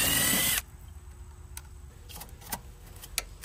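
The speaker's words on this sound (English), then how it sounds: "from there, you pull all your screws off." A power drill spins loudly for a short burst while backing screws out of an HVAC unit, then falls quiet, leaving faint clicks and handling noises.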